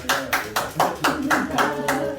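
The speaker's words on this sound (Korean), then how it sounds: "박수 한 칩시다" Hands clap in a steady rhythm, about eight claps in two seconds, close and moderately loud, at a church retreat gathering.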